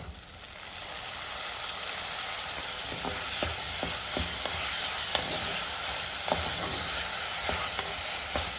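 Chopped tomatoes frying with onions in a pan, a loud continuous sizzle close by with occasional small clicks of stirring against the pan, no voices over it.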